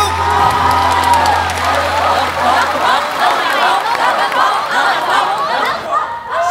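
Audience at a live music show cheering, whooping and applauding for two male singers after a duet, a loud dense crowd roar with laughter mixed in.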